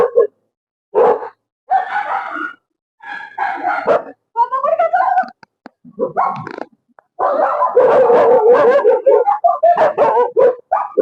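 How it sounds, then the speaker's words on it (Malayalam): Several dogs bark and yelp in ragged bursts with drawn-out howling tones in a Kerala village, the chorus growing denser and louder toward the end. "ഇതെന്താ പട്ടികളുടെ സംസ്ഥാന സമ്മേളനം?"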